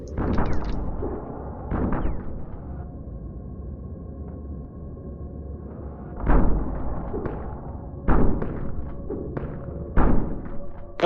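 Heavy booming thuds from a shotgun in the game Empty Shell, several spaced blasts over about eleven seconds, deep and punchy, with a low hum in between.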